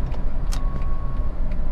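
A 2007 Honda CR-V 2.2 i-CDTi diesel station wagon idles at a steady, even hum, with a constant low rumble and a faint fixed whine throughout and no other noises.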